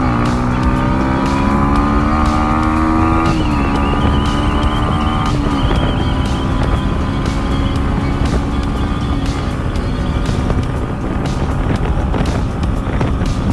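A fully modified Yamaha MT-15 motorcycle engine roars loudly and continuously while riding, its pitch climbing and dropping with throttle and gear changes, close and dominant throughout.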